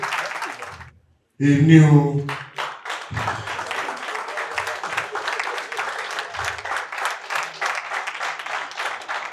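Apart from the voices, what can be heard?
round of applause from an audience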